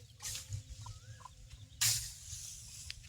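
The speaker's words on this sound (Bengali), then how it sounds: "দেখো তোমার মুরগির ছাও আসতে" Chicken chicks cheep and cluck softly in short scattered calls, with a brief louder rustle midway over a quiet background.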